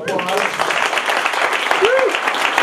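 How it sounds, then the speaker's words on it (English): Brief burst of audience applause at a Christian/atheist debate, dense clapping close by for a couple of seconds with a voice cutting through. "applause."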